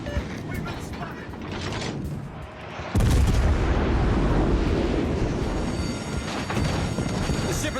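Warship guns firing in World of Warships Legends, heavy booming salvos with a sharp loud blast midway and rolling rumble after, under a game voice calling out orders.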